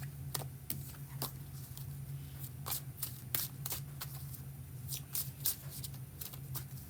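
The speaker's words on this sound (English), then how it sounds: "as I shuffle these cards back into the deck" Tarot cards are shuffled back into the deck by hand, a series of quick papery riffles and flicks in irregular bursts, close and moderately soft over a low steady hum.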